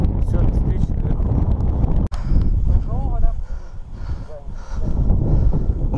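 Strong mountain wind buffets the microphone in heavy, continuous roaring gusts, loud and close, with a short dropout partway through and people talking under the noise.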